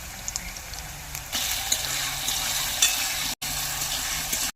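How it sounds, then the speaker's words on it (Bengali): Potato pieces fry in hot white oil in a kadai, a steady close sizzle with occasional stirring scrapes and a brief cut near the end, no talking. "আলুগুলি তেলে ভালো করে ভাজা হয়ে গেছে"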